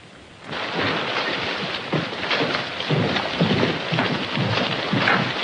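A thunderstorm with steady heavy rain and rumbling thunder swelling in and out, a dense continuous wash that starts abruptly and stays loud throughout, with no voices.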